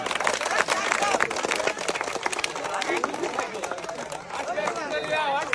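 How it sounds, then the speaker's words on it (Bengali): Loud clapping from an audience at a prize-giving contest, a dense patter of many hands running throughout while voices call out and talk over it. "সবাই একটা জোরে তালি হবে।"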